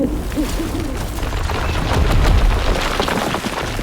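An owl hoots a few times, low and soft, in the fantasy game Dragon Age: The Veilguard, amid dense noisy combat rumble and booms.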